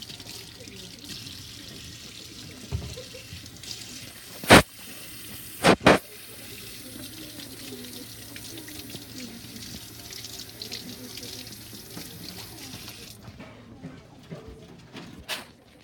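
Kitchen tap runs while hands are washed after handling raw meat for meatballs, a steady faint hiss of water with a few sharp clicks and clatters near the middle.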